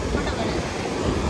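Sea waves wash onto Madhavpur beach with a broad, steady rushing roar, close and loud, mixed with wind buffeting the microphone.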